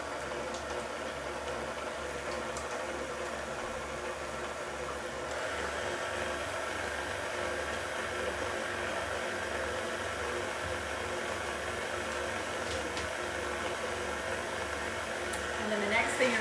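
An electric mixer whirs steadily through pumpkin roll batter, a continuous close motor hum that swells slightly near the end.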